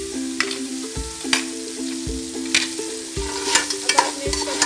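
Ground ginger and turmeric fry in hot oil while being stirred, a continuous close sizzle broken by repeated scraping strokes of a spoon against the pan, no voices.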